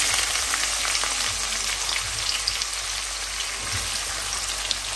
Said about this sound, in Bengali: যেই তেলে মাছ ভেজেছি ঠিক সেই তেলেই আমি পেঁয়াজ আর কাঁচামরিচ দিছি